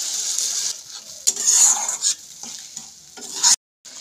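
Potato masala with besan being stirred in a pot after mixer-bowl rinse water is poured in, giving close, broken bursts of sizzling and scraping that cut off abruptly near the end.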